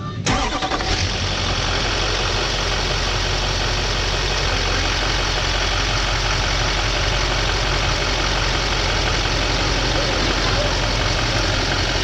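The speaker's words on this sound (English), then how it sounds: "after you start the vehicle, the AC compressor clutch keeps engaged" A car engine cranks to life, then idles with the A/C compressor clutch held engaged and the refrigerant system running low, giving a loud, close, steady rumble that continues unbroken for the rest of the clip.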